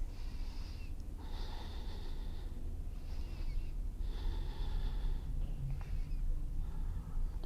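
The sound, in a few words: deep breathing during a yoga stretch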